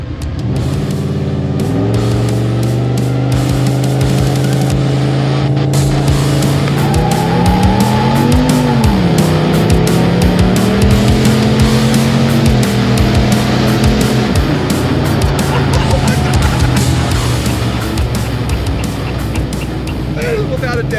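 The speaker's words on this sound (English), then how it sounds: "That is without a doubt the fastest car I've ever been in." Four-door 1985 Oldsmobile Cutlass accelerating hard from inside the cabin, engine note climbing through gears with a dip and rise midway, loud and continuous, with people talking over it.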